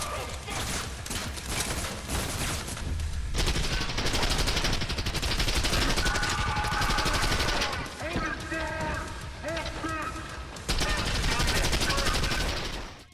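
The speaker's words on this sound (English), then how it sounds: "The shooting in this is absolutely great. It has that perfect mix of punchy impact with satisfying sound." Rapid, punchy video-game gunfire from Trepang2 plays as dense automatic bursts and single shots, loud and continuous throughout, with a voice talking over the combat.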